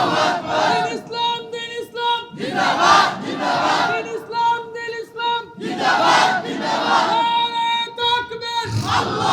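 A large sermon crowd chants the takbir, Allahu Akbar, in repeated loud collective bursts, roughly four waves of voices swelling and falling close together without a break.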